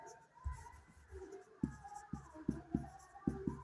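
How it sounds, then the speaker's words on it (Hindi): A pen or chalk scratches out figures during a Class 6 math lesson on products, a quiet series of short taps and strokes in an uneven rhythm with no talking. "तो यहाँ पे लिख लेंगे"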